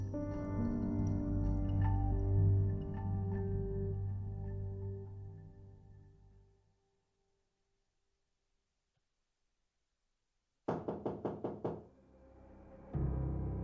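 A front door of a little house is knocked on: after a fading musical passage and silence, a quick close series of about five sharp raps sounds, followed by a short low rumble.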